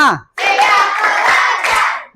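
A group of schoolchildren clap in unison during a classroom counting routine, producing a dense, loud wash of claps with a few stronger accents. A short spoken cue from the teacher comes before it.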